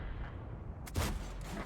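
A single tank cannon shot booms in World of Tanks on the Mines map, a sharp close blast about midway followed by a short rumbling tail over a steady engine drone, with no talking.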